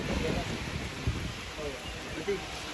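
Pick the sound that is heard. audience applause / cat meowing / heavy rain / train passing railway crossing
heavy rain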